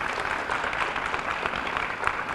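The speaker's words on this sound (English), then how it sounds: "Let's give them a round of applause." An audience at a Camden school anniversary program at Woodrow Wilson applauds the principal, educators and students, a brief dense patter of clapping, fairly close and even, with no talk.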